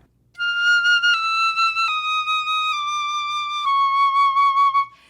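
A flute plays a slow descending line of sustained, breathy notes, stepping down one at a time, clear and close with no talking.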